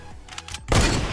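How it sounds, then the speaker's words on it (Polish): A single loud blue hunting rifle shot in a video game, fired at a brick wall, lands as a sharp blast followed by a short burst of crumbling noise after a few faint clicks. "pierwszy sztucer niebieski jest tak, jeden strzał"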